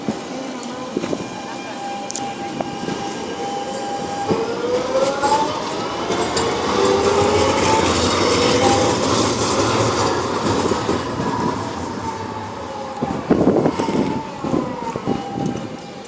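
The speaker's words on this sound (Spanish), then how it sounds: "con razón se oían las vibraciones del tranvía. Es que vaya como retumba" A tram near Marxalenes station on Valencia's L4 line rumbles past, its deep vibration swelling and fading over about sixteen seconds, with wheel squeal, clattering rail joints and a bright tonal whine, close and loud.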